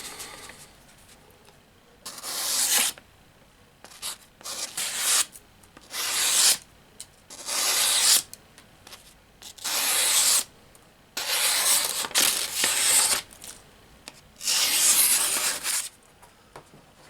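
A bushcraft knife modified from an Old Hickory blade is stropped on a leather strop, giving repeated brushing strokes about a second apart, close and moderately loud with short pauses between passes.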